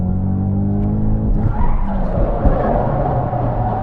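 A 4-cylinder Ford Mustang drifting with a big-angle flick: a revving engine note breaks into loud, sustained tire squeal and skidding, close and continuous, with no talking.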